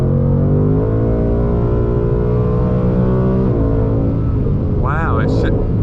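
A tuned 2020 Ford Mustang GT running on 91 octane revs loud and close, its engine tone climbing steadily through the gears with a shift dip midway, while a voice talks over it near the end.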